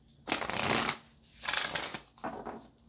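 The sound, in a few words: shuffling tarot cards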